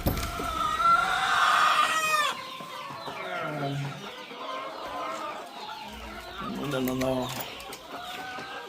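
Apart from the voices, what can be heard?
Boschveld chickens clucking on a farm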